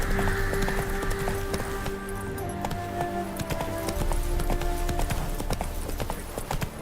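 Roach, a horse in The Witcher 3 video game, gallops in a quick repeated clip-clop of hooves, steady and close, over soft game ambience and music tones.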